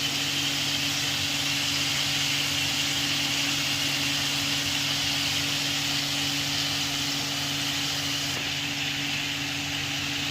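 Chicken fries in a pan over a lowered flame, giving a steady, even sizzle and hiss that runs unbroken for the whole stretch with a low hum beneath and no voices.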